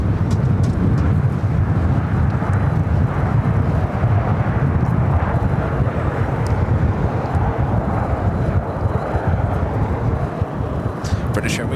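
Airliners, including a Qantas jet and a British Airways Speedbird, taxi toward runway 7 Left at LAX in gusty winds, giving a loud, continuous jet-engine rumble mixed with wind buffeting that never lets up.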